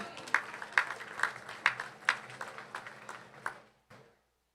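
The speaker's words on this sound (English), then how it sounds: "Let's give her a round of applause, everybody." An audience at a national youth event applauds the President of Dominica. The applause is faint and distant, made of distinct, separate claps that grow sparser and then die away into silence.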